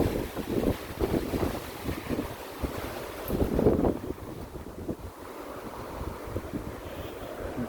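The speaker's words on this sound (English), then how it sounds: "Really windy today" Strong wind gusts across a garden with fennel and dahlias, a steady close roar of buffeting against the microphone that surges and eases, with one louder blast in the middle, no voices.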